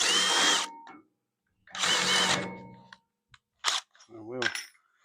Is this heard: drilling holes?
yes